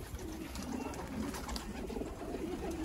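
Teddy pigeons cooing in a steady, continuous low murmur that runs through the whole stretch, close by and moderately loud, with no talking over it.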